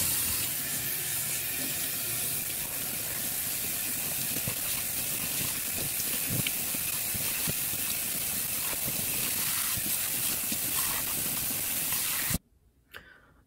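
Running water from a tap rinsing a U-part wig in a sink, a steady continuous splashing hiss that holds for about twelve seconds before cutting off abruptly.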